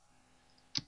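A single crisp computer mouse click while drawing in AutoCAD, quiet and close, coming near the end after a faint hum.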